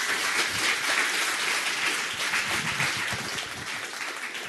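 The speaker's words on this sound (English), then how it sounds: "let's give Joey another round of applause" Sustained applause from a conference audience at a PyCon.DE 2017 talk, a dense steady wash of many hands clapping that fades slightly toward the end.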